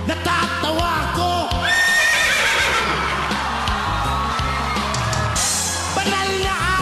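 A person imitates a horse's neigh with loud whinnying cries and snorts, while a crowd whoops and laughs around them.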